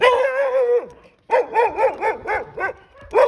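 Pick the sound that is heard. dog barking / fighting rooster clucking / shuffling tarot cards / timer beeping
dog barking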